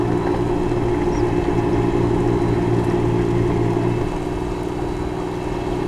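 A tractor works through a flooded rice paddy during field preparation for planting, its steady mid-range engine droning close by for several seconds before easing slightly toward the end.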